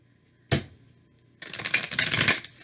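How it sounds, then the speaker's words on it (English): Tarot cards are shuffled close up, starting with a single sharp snap, then after a short pause a dense papery riffle that runs for about a second. "We'll do one more shuffle,"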